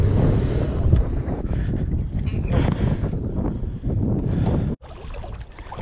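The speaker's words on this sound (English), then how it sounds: "Didn't expect it to be so windy today or cold" Strong wind buffets the microphone at a kayak launch in Mayport, Jacksonville, Florida, on a cold, blustery day, a loud, steady roar of rushing air that briefly drops out near the end.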